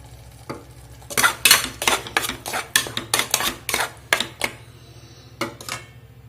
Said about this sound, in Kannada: ಇದು ಸ್ವಲ್ಪ ಹಸಿ ವಾಸನೆ ಹೋಗೋವರೆಗೆ ಹುರಿತೀನಿ, ಫ್ರೈ ಮಾಡ್ಕೊತೀನಿ